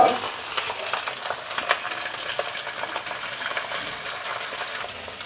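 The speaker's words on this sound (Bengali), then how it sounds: "মাছের মাথাটা আমার ভাজা হয়ে গেছে" A katla fish head coated in salt and turmeric frying in hot oil in a kadai, crackling and sizzling steadily and close, with scattered sharp spits and pops throughout.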